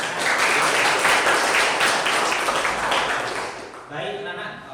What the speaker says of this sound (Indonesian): tepuk tangan untuk tiga teman-teman